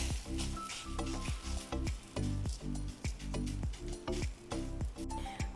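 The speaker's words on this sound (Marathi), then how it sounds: "पाणी लावल्यामुळे अगदी छान असं खरपूस खालच्या साईडनी हे नान जे आहे ते भाजलं जातं" Naan, wetted on its underside, sizzling as it cooks on a hot tawa griddle, a steady close frying hiss with faint clinks and scrapes over a rhythmic background tune.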